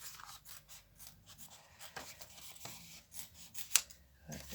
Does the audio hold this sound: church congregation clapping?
no